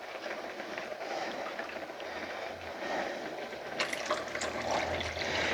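Liquid pouring out of a pan in a smooth, continuous stream, moderately close, with a slightly brighter splashy stretch toward the end.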